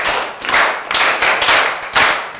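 Schoolchildren in a classroom clap together for a classmate, producing a loud, rhythmic burst of group clapping in several surging waves, close and with no talking.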